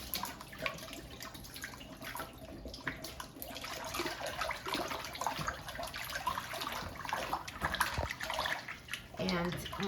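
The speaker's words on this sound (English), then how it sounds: "once you swirl it around in cold water, so this is washed" Romaine lettuce hearts swirled in cold water, giving continuous soft splashing and sloshing at close range, with some quiet talk alongside.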